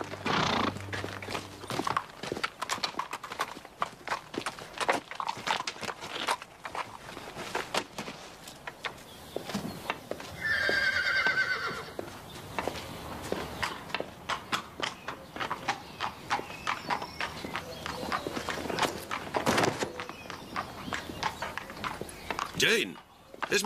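Horse hooves clip-clop steadily through a video game scene, with a clear whinny about midway and another near the end, while characters talk over much of it.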